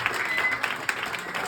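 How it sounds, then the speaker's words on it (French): Audience applause following a minister's speech at a political gathering in Saint-Étienne, a dense, steady patter of clapping throughout with faint voices mixed in. "On peut acclamer très fort."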